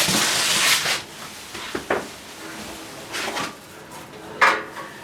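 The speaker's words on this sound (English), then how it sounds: "So I'm gonna get the tank over here, get it set up" A motorcycle fuel tank is moved into position and set up on a garage bench, producing a few hollow knocks and clunks with shuffling contact noises between them, close by and without talk.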